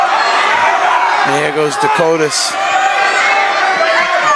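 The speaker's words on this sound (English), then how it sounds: "Great crowd here tonight at Cranston West Falcons Gymnasium." Crowd noise fills a high school wrestling meet in the Cranston West Falcons gymnasium, a steady roar of voices and shouts under a commentator's close speech.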